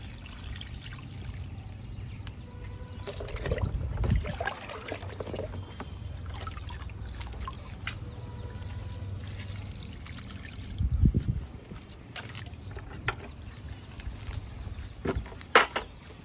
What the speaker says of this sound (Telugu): లిక్విడ్ ఇస్తున్నా దానిమ్మ మొక్కలకి